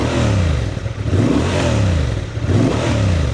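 A 2025 Honda Transalp 750 motorcycle engine revs up and down in repeated swells, a loud, close, throaty burble with rising and falling pitch and no talking.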